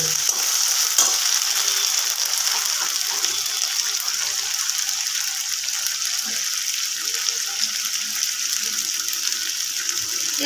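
Ginger-garlic paste fries in a pan for a bhetki fish curry, a dense, even hiss of sizzling oil running close and steady for the whole stretch, with no voices.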